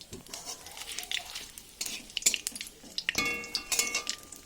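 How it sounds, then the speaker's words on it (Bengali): Panch phoron spices, two dried red chillies and a bay leaf hit smoking-hot oil in a pan, giving close crackling sizzles and spits with light clinks of a utensil against the pot. "এবার আমি দিয়ে দেবো এর মধ্যে 5 ফোড়ন, 2টো শুকনো লঙ্কা আর একটা তেজপাতা"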